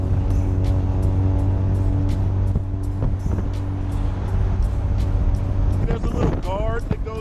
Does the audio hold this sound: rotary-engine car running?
yes